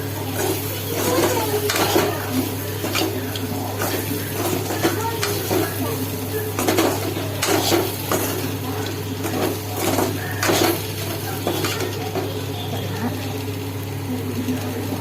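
Quail fry being stirred with ground pepper in a kadai over a low flame, with a soft sizzle and repeated scraping of a spoon against the pan beneath a steady hum, while a person talks throughout.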